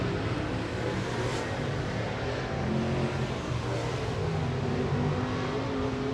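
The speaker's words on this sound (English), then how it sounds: "this is the first group of 604 late model hot laps and qualifying" 604 late model race cars running hot laps and qualifying at 411 Motor Speedway, a continuous loud engine roar that swells and fades slightly as cars circle the track.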